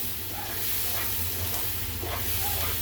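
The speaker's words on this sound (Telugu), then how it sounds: "దీన్ని ఇలానే బాగా ఫ్రై చేసుకోవాలి." Egg frying in a pan for a dry egg curry, a steady close sizzle and hiss lasting the whole stretch, faint stirring in the background.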